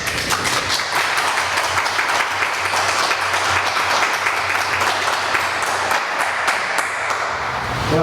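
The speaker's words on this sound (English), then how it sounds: "I can give them a round of applause." A room full of people at a Halifax board of selectmen meeting gives a round of applause: dense, steady clapping that holds at an even level for about eight seconds, close and full, with no talking over it.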